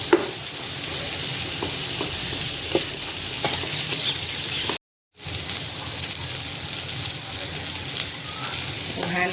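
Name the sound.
sautéing cardamom, cloves and pepper for beef stew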